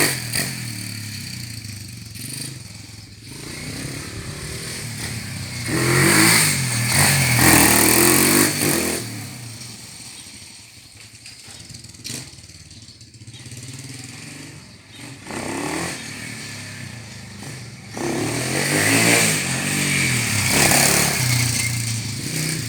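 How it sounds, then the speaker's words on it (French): A 125cc YCF pit bike engine revving in repeated bursts of throttle, loud and close, with rough buzzing swells rising and falling over idle between blips, no talk. "Donc c'est une moto qui réagit assez bien au coup de gaz"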